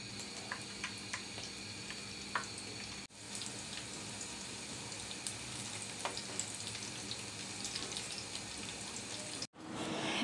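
Battered beef shashlik sticks fry steadily in hot oil, giving a continuous close sizzle and crackle with small pops, briefly dropping out twice and then resuming.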